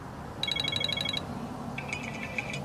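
An iPhone 7 ringtone plays during a sound test of the phone, a bright melodic tone sequence repeating in quick pulses for under a second, then a second sustained tone after a brief pause, fairly faint over room noise.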